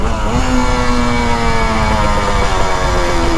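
Motorcycle engine revving steadily with newly installed carburetors, from an RD350 cafe racer or XS650 tracker, a loud continuous engine tone rising slightly in pitch throughout, close by with no talk.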